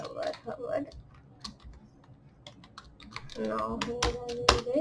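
Computer keyboard keys clicking in quick irregular bursts while HTML and CSS code for a house website is written, with a voice talking faintly at the start and end.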